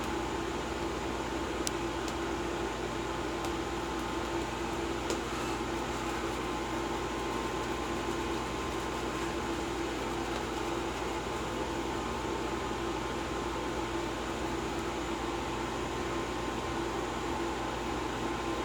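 A steady mechanical hum with broadband hiss drones on without a break, like an appliance running close by, with no talking over it.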